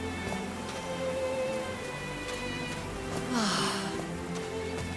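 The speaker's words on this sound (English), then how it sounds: "These drops of rain are so refreshing." Rain patters softly and evenly on a mountaintop in the video game Call of the Sea, a faint steady hiss over a low ambient hum, with a brief brighter swell near the end.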